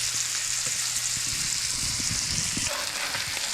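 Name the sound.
fish steak frying in a pan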